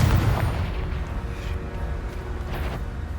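A Confringo blasting spell explodes in a Harry Potter video game, opening with a heavy low boom and then trailing into a continuous crackling rumble of lesser bursts, loud and close, with no talking.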